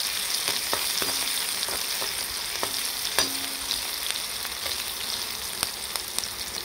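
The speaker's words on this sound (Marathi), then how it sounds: "आता मिरची आपली तळली." Green chillies frying in oil for sabudana khichdi, heard as a steady, loud, close sizzle with occasional light clicks of a slotted spoon against the pan.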